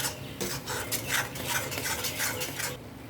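A spoon stirs a cashew and almond paste into masala frying in a pan, giving repeated scraping strokes over a soft sizzle at moderate volume.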